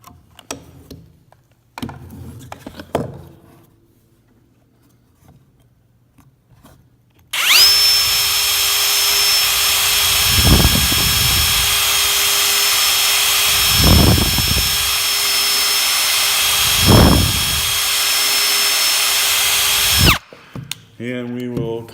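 Power drill pre-drilling a hole in wood, a loud steady whine with three bursts of bearing down, starting and stopping abruptly, with faint clatter and handling noise before and after.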